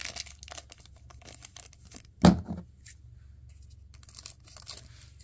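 A 1990 Fleer NFL trading card pack is ripped open in one sharp, close tear, followed by a brief trailing rip and soft crinkling of the wrapper and cards, against a quiet background.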